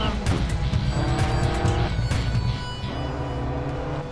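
A rally car engine revs hard and climbs under acceleration in the Sébastien Loeb Rally Evo racing game, loud and continuous with shifting pitch and some tire noise, no talk.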